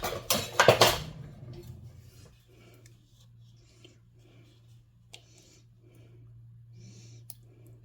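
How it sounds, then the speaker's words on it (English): Food is dished up into a bowl at home, starting with a loud cluster of clanking spoon-and-dish clatter, then quieter scattered clicks and scrapes over a low steady hum. "I'm going to grab a bowl and we'll dish it up."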